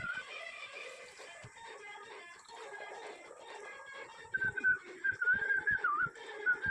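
Somebody whistles a short, thin, wavering tune that comes in partway through and rises over a cluttered household background with soft thumps and faint farm-animal sounds. The whistling is fairly near and clear.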